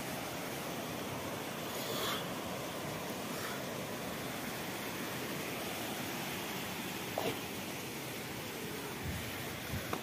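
Loud, steady rushing of water, a continuous broadband roar that fills the whole stretch with only small swells and no voices over it.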